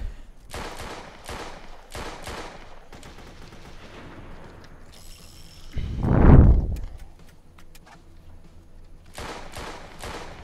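Guns fire at zombies in a shooter video game with a western loadout and Barrett rifle: repeated sharp shots come in quick bursts, and a heavy booming blast swells in the middle.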